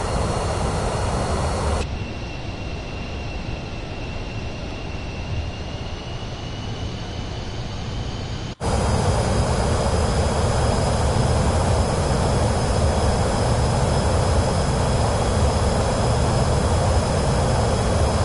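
Aircraft engine in Microsoft Flight Simulator 2024 on PS5: a steady, close droning roar that steps up to a louder, fuller pitch about halfway through as the throttle opens, with no talking.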